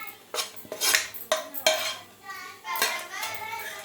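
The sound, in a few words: spooning ginger mixture into a mixer jar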